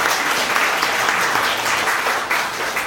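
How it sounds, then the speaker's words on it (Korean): Wedding guests at a church-style ceremony at Apelgamo Gwanghwamun give loud, sustained applause, a thick wash of many hands clapping at once with no break. "오늘 수고해 주신 우리 목사님께 다시 한번 힘찬 박수 부탁드립니다."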